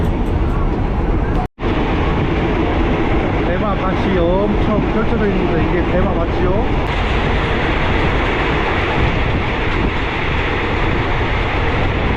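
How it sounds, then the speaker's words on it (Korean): A train rolls along the Death Railway near Kanchanaburi, Thailand, a steady loud rumble and rattle of carriages heard from on board, continuous throughout with a brief dropout near the start. "죽음의 철도를 지납니다"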